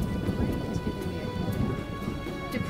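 Steady rain pours with rolling thunder in The Witcher video game, a dense, continuous wash of sound with low rumbles underneath and no voices.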